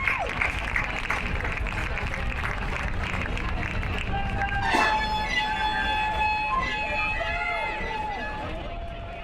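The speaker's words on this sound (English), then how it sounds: "let's give them a big round of applause for their accomplishment this year" Audience applauding the 2019 Lions and Lady Lions golf team at a school event, steady broadband clapping with crowd noise and some whistles or cheers partway through, gradually fading toward the end.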